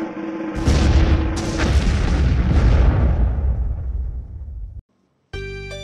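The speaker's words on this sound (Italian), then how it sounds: "Nitro ha il discutibile talento di esplodere come una bomba umana, con una potenza devastante" A superhero explodes like a human bomb with devastating power: a loud, close boom with a long rumbling decay, followed by a brief silence and then a sustained tonal sound.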